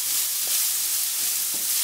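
Onions sizzling in olive oil in a pan, a steady close hiss of frying with a couple of soft stirring knocks, and no voices.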